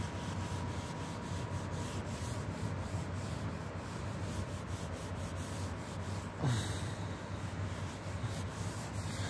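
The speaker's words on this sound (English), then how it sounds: "how to clean your headlights using just toothpaste and a cloth" A cloth with toothpaste rubs back and forth over a van headlight, producing a continuous close, gritty rubbing in quick repeated strokes with no talk.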